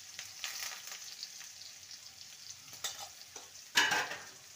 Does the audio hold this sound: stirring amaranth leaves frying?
yes